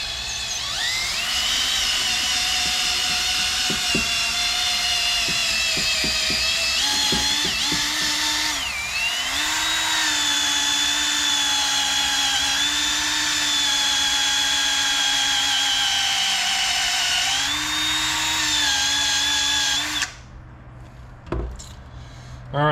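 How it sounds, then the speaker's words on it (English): Small power tool spinning a polishing pad on a VW MK3 Variant headlight, a loud close high-pitched whine held steadily for about twenty seconds with slight pitch dips under pressure, then cutting off into brief handling noise. "Next I have this little polishing pad, and sort of hold it there."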